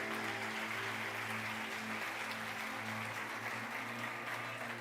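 Church congregation applauding during an evening service, a faint, steady wash of many hands clapping at a distance, sustained without pause over a low background hum.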